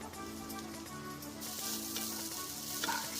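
Garlic added to a pan of browning onions and mince for bolognese, a quiet, steady sizzle that swells slightly as it cooks, with faint stirring and no talk.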